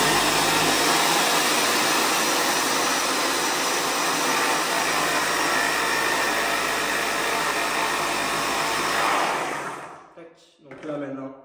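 An airless paint sprayer pump primes with paint, giving a loud, steady motorized roar that holds for about ten seconds and then cuts off, leaving a few brief sounds.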